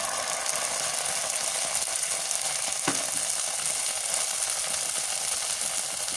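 Chilli paste frying in a pan, part of a Sylheti-style home cooking session: a steady, dense sizzle holds throughout, with one brief click near the middle and no voices.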